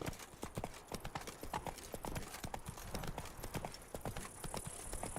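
A horse's hooves clip-clop steadily in The Witcher 3, with a brisk, even rhythm of sharp knocks that runs throughout over in-game ambience.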